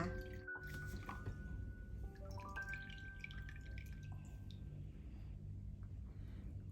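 Brewed Thai tea is squeezed for a Thai tea custard, and liquid drips and trickles in faint, irregular drops with a soft splash early on, quiet and close without speech.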